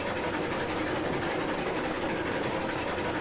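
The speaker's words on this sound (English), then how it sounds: "it's actually kind of fun driving the train up here to get to it" Steam train climbing uphill in the railway game Railroads Online, a dense, continuous rumbling chug with steady mechanical noise, loud and close, without talk.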